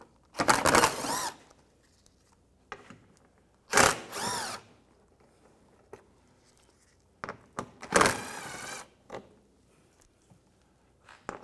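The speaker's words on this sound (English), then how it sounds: "Just use an 8mm socket. Take those bolts out." Three loud bursts of a power drill or driver backing out 8mm bolts on the headlight shield of a 2004-2010 BMW X3, with quieter clicks and handling noises between them and no talk.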